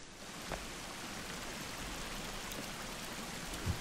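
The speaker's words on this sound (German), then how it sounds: "Boah, ist der Wasserfall laut, der Wasserfall ist voll laut." A loud waterfall in the survival game The Forest roars as a dense, continuous wash of rushing water, steady and unbroken, with a couple of faint brief knocks near the start and end.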